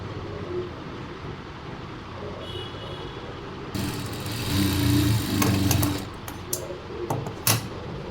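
A sewing machine runs a test line of stitches on a scrap of waste cloth in a boutique. The motor whirs in steadily partway through, holds a few seconds, then breaks into short bursts before stopping.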